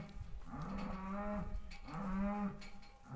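A cow in a cattle pen gives two long, deep moos in a row, close and clear, with a short pause between them and no talk.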